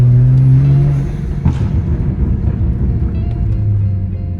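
A BMW 335i with a Valvetronic exhaust revs up loud and close, a deep droning exhaust note rising and settling with a quick blip midway, with no talking.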